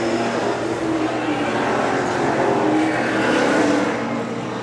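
Stock cars in a ProStock feature at Seekonk Speedway, rolling under caution and picking up throttle for the restart, a steady loud engine drone with a slight swell near the end, no talk.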